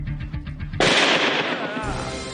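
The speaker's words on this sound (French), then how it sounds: "Il y avait vraiment un pétard." Firecracker set off during a magic act, one sudden sharp bang close by that cuts through lighter sounds and leaves a loud ringing decay.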